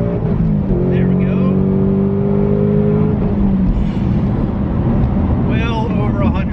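A supercharged 2021 Ford Mustang Mach 1 surges at wide open throttle, its engine note climbing in a steady rising pull with supercharger whine, heard from inside the car under a voice.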